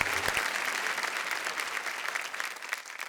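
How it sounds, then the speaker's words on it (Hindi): Studio audience applause on a Hindi television show, a steady, dense wash of many hands clapping together, loud and sustained throughout without a break. "जोरदार तालियां राधा और भगवान मकरंद के लिए।"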